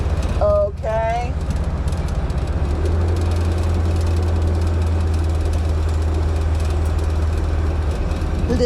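A bagged Ford F100 pickup with a Coyote engine swap is being driven, its engine holding a steady low drone from inside the cab, with a brief voice near the start.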